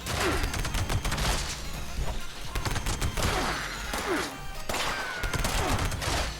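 Sustained rapid gunfire from a weapon in Fallout 76, loud dense bursts with sharp repeated reports filling the whole stretch and brief gaps between volleys.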